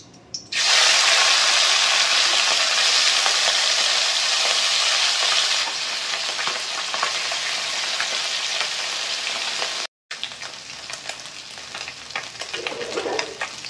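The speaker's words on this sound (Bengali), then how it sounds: "বাদ বাকি মাছগুলো আমি ভেজে নেব" Small tengra catfish frying in hot oil, a loud, dense, continuous sizzle that begins abruptly, holds steady, softens partway through, cuts out briefly, then returns as a quieter crackle with light stirring.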